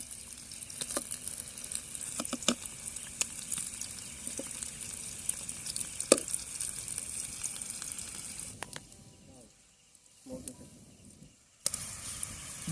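Chicken combs frying in a pan with coriander, a steady sizzle with occasional crackles and stirring clicks, dropping to near silence briefly before resuming.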